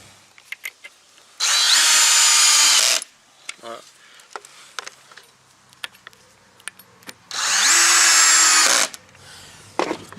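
A power drill drives screws into a wooden decking board near a metal joist, two loud sustained whirring bursts of about two seconds each with ratcheting clutch clicks, separated by quieter handling knocks.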